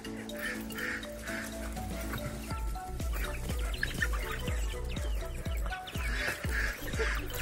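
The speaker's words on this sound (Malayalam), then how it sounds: "ഇതാണ് എന്റെ എല്ലാ കോഴിയും താറാവും." Chickens and ducks on a small farm, including Appenzeller Barthuhner hens, cluck and quack in a busy, continuous chorus, with short sharp calls repeating close by over a steady background of flock noise.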